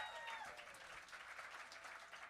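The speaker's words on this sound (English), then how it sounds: "Give him a big round of applause" Concert audience applauding after a bluegrass act's set, a steady wash of clapping from a crowd that holds evenly throughout, with a brief faint tone fading early on.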